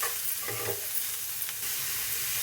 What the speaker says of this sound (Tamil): நம்ம நெய்யில் வதக்கும் போது கம்மியான தீயிலே வச்சு நல்லா வதக்கி விட்டுக்கலாம்.